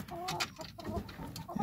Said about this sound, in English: He's our rooster.